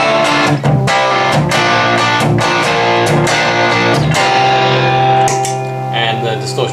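Electric guitar through an overdrive pedal chugging thick, gritty chords in a steady rhythm, loud and up close, with no one speaking.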